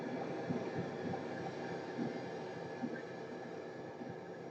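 A train rolls along in a video game, a steady low rumble with faint rhythmic clacks from the wheels, moderately quiet and continuous with no talk.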